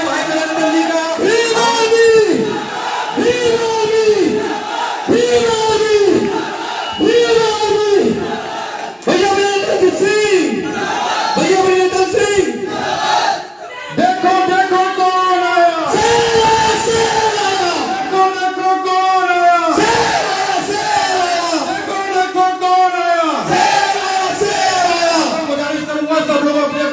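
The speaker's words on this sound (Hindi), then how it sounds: "तालियां एक बार खड़े होकर स्वागत कीजिए भाई विनय रतन जी का" A large crowd at a political rally roars and cheers continuously in waves to welcome a speaker, loud and sustained, with shouted chants rising and falling throughout.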